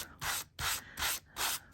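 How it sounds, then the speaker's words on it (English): A sanding block rubs across aluminium metal tape art in four steady back-and-forth strokes, each a close, dry rasping scrape separated by short pauses. "keeping the sanding block horizontal and then working around the edges of the design"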